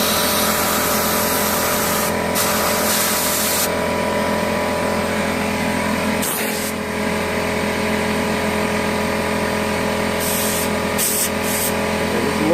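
Compressed air blasts steadily from a needle-nozzle air compressor being forced under a handlebar grip, a loud continuous hiss broken by a few short pauses, with no talking.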